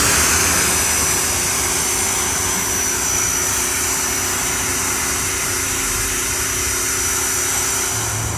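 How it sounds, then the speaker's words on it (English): A pressure washer sprays while cleaning the engine bay of an abandoned Mercury Cougar, a loud, continuous hissing roar with a steady motor drone beneath, close and unbroken throughout. "hit the pressure washer, see what happens"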